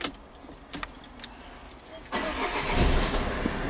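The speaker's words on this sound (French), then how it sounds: "Il faut bien entendu démarrer le véhicule." A Peugeot 308 CC 2.0 HDi diesel convertible starting up: clicks and a brief whir, then the engine catches at about two seconds and settles into a steady, close idle.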